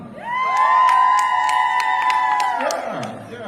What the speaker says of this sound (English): I want you to shout and scream at the top of your voice.